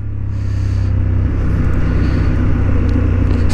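A Honda Hornet 750 motorcycle on a racetrack in third gear, its engine a loud, steady, close rumble building slightly through the run, with wind noise over it and no speech.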